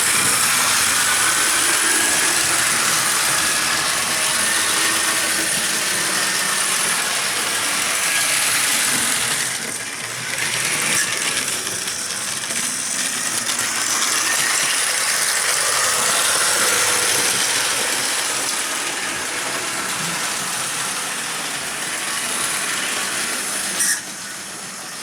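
A Tyco Chattanooga Choo Choo model train locomotive runs noisily, giving a steady hissing, whirring mechanical drone with faint rhythmic clatter, close and continuous, with a brief drop partway and a sharp click near the end.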